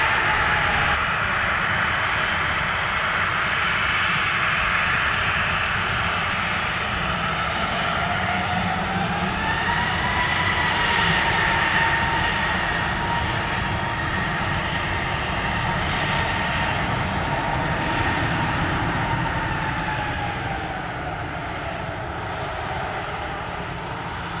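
An airliner on runway 25 at Montego Bay, Jamaica, sends out a steady loud jet engine roar with a slowly shifting whine that swells and then eases slightly toward the end.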